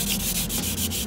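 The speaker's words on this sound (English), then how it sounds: "So it's using a 2000 grit sandpaper and wet sanding it lightly." A wheel barrel is wet-sanded lightly with 2000 grit sandpaper, making a steady, close, continuous rubbing hiss with faint rhythmic strokes and no voices.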